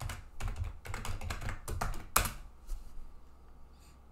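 Rapid keystrokes on a computer keyboard as an admin account name and password are entered, a steady patter of close taps with a brief louder burst midway, then fading to quiet.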